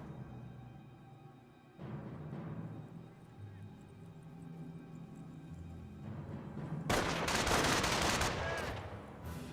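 MG42 machine gun fire in Company of Heroes, a World War II strategy game, rattles amid a busy battle soundscape, swelling into a loud, dense stretch of sustained automatic bursts near the end.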